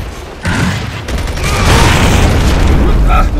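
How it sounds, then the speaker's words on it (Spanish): A grenade goes off in Gears of War 3 as a loud, sustained booming blast that rumbles on for several seconds, with a voice briefly audible at the same time. "¡Lanzando granada!"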